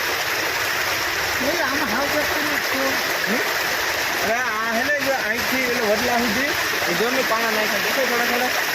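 Fast-flowing floodwater after heavy rain rushes loudly and steadily throughout, a constant broadband roar of churning water, with people talking over it in the foreground.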